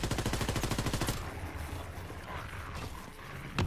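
A rapid burst of automatic gunfire rattles out in Call of Duty: WWII Zombies, about a second of evenly spaced shots, followed by quieter game ambience and mechanical clatter and one last sharp report at the end.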